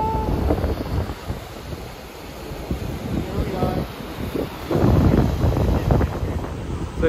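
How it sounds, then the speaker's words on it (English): Strong wind buffets the microphone outdoors in Sioux Falls, South Dakota, as a blizzard warning nears, making a constant rumbling roar that swells and fades while people talk faintly underneath. "It's really windy."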